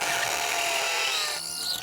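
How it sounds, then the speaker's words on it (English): A power drill whines loudly and steadily as it drives into a deck post set on concrete. Near the end the pitch drops as the drill binds at an angle against the post. "it's binding the drill over here"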